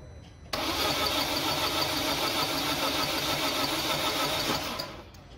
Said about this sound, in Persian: مجدد استارت بزن.